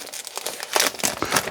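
A wrapper on a 2022 Topps Update baseball card pack is torn open up close, a quick burst of crinkling and ripping foil plastic lasting a second or two.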